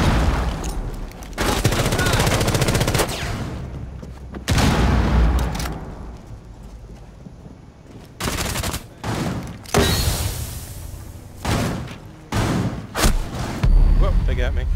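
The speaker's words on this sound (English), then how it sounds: "they're shooting through the wall." Repeated bursts of loud automatic gunfire punched through a wall during a Rainbow Six Siege team deathmatch on the Presidential Plane map, separated by brief gaps, with someone talking in between the volleys.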